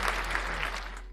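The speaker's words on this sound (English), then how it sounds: "Give another round of applause for our members" A short burst of canned applause plays over a sports podcast live stream, a steady crackle of clapping lasting about a second under a low background hum.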